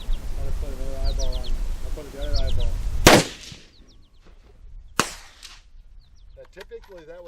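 An AR-10 rifle fitted with a Huber square muzzle brake fires two sharp, loud shots about two seconds apart at an outdoor range in Shiocton, Wisconsin. Birdsong plays in the background and people talk briefly before the first shot.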